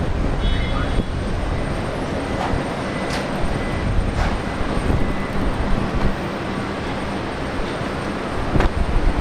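Qantas Airbus A220 jet at Brisbane Airport, a steady broad engine roar filling the whole stretch at close range, with faint voices beneath it.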